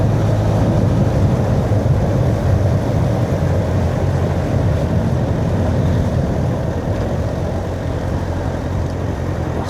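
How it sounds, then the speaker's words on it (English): Steady low engine rumble of a boat on open water, continuous and fairly loud throughout, with a constant wash of wind and water noise. "Something like a speedboat out there"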